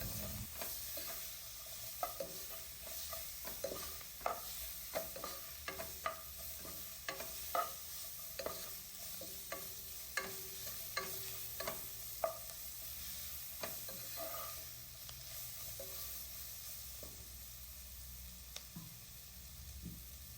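Fried sprats with salt being stirred in a pan make a soft, steady sizzle, with repeated light scraping and clicking strokes of the spoon at an irregular rhythm, quiet and close.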